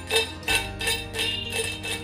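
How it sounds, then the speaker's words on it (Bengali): Crisp homemade potato chips, freshly fried, snapping and crunching in about five sharp bursts spaced roughly every half second, close and clear over a low steady background hum. "দেখো ভেঙে যাচ্ছে, বুঝতেই পারছো কতটা মুড়মুড়ে হয়েছে।"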